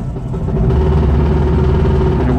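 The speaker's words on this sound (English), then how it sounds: "We got fire from the little motor, and we'll put it into first gear." Small engine of a Goggomobil limousine running with first gear engaged, a steady close, loud buzzing drone with no pauses.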